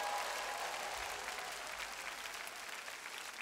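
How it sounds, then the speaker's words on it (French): A church congregation applauding and cheering for Jesus during a sermon: steady, dense clapping from a large crowd, loud and continuous throughout, with no pauses. "acclamez pour Jésus"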